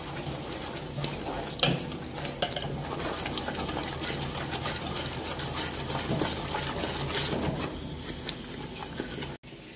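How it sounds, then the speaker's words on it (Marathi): Hot oil tempering sizzles over Kolhapuri tambda rassa curry, a close, continuous crackling hiss with a few sharper pops along the way and no voices. "हा आपला तांबडा रस्सा फोडणी मारलेली आहे."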